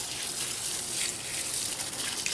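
Condensation water draining from an air conditioner outdoors, a steady close hiss of running water trickling and splashing without pause, moderately quiet and with no voices.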